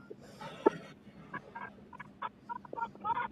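Chickens on a home property with young chicks kept in a brooder, giving several short, fairly faint clucks and calls scattered through a soft outdoor background, with one brief louder peak early on.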